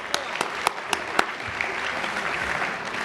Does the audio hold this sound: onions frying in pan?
no